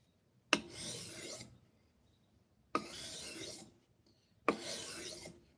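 Three separate slow strokes of a blade drawn across a 3000 grit sharpening abrasive, each a breathy, hissing rasp lasting about a second with pauses between, close and fairly quiet, no voices.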